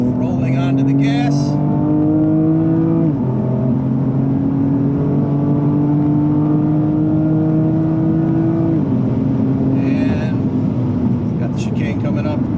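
A 2019 BMW M2 accelerates hard on a coned track lap, its engine note climbing steadily through two quick upshifts, loud and close throughout the clip.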